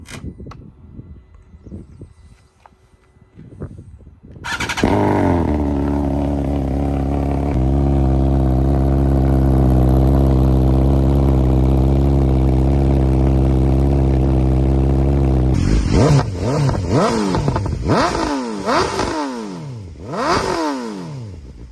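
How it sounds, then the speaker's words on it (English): A 2022 BMW S1000R M Package with Arrow headers and an Akrapovic exhaust fires up from cold, settling into a loud, steady high idle that runs long and unbroken, then drops into a series of sharp, rising revs near the end. "you guys ready for a cold start?"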